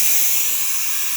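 A leaking Breville BES900XL espresso machine gives off a continuous, loud, close steam hiss that holds steady throughout with no speech.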